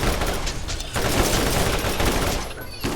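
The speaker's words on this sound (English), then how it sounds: "Scorpio turret away!" Sustained automatic turret fire from a Scorpio turret in the video game Borderlands, a dense, continuous rattle of gunshots that barely lets up for three seconds.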